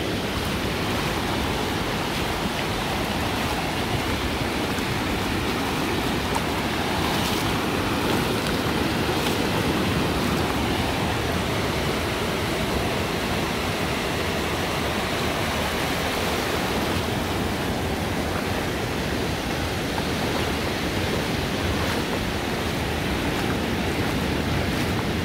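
Ocean surf breaks steadily on the beach at Praia da Enseada in Guarujá, a loud, continuous wash of roaring waves with no talking.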